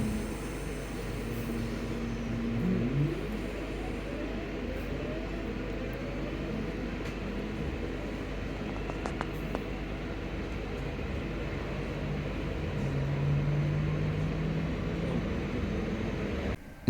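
Steady low electric motor whine from a West Midlands class 323 electric train, heard from inside the unit with a faint rising tone near the start and a continuous rumble throughout, no voices.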